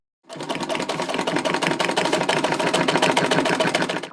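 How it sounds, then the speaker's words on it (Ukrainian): A Podilsk sewing machine stitching a seat mat, starting up abruptly and then running at a fast, steady, close clatter for about four seconds, with no voices. "Шиє на подільській швейній машинці."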